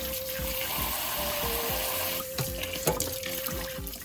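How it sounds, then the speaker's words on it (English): Kitchen tap water runs into a bowl of potatoes being soaked for hash browns, a steady near rush that shifts in tone partway through as the flow changes. "does the water come out faster like this or like this?"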